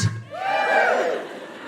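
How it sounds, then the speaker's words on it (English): Live podcast audience at a comedy recording of The Guilty Feminist giving a short burst of cheering and whooping, rising quickly and trailing off after about a second. "notice how those cheers are less empowered"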